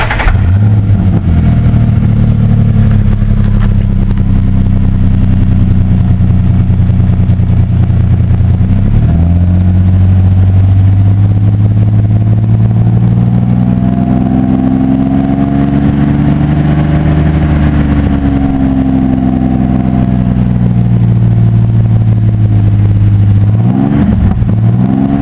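A Ford Ranger with a 4.0 engine and a bolt-on Superflow muffler revs loudly up close, a deep throaty drone that rises and falls through several long pulls, dropping briefly near idle between revs.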